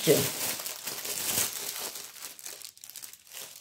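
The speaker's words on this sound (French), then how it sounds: "Il y aura du bruit de papier." Paper and plastic packaging crinkle and rustle during the unboxing of a cross-stitch kit, with dense close-up crackling that is strongest early and then thins into scattered, softer crinkles.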